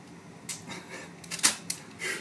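A film camera's shutter is cocked and worked, giving a quick series of small mechanical clicks and ratchets, close and fairly quiet.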